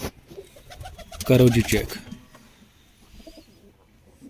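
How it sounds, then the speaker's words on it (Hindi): A pigeon at a pigeon-keepers' club gives a short, low, throaty coo close by, rising briefly between stretches of someone talking. "ये है जी कबूतर।"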